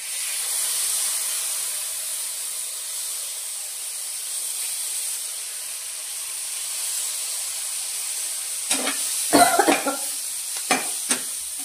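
A quiet, steady sizzle-hiss of okra masala frying, followed near the end by a few clattering scrapes of a spatula stirring on a hot griddle.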